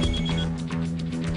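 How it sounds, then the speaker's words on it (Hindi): A telephone rings in a Hindi TV drama home scene, a loud steady electronic trill pulsing in repeated bursts, with no talk over it. "ओ, तो घर से फोन है।"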